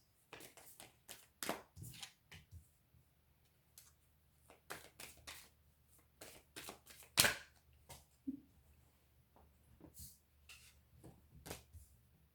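Tarot advice cards shuffled and handled, irregular crisp flicks and taps close by with pauses between, one sharper snap partway through, over a faint low hum.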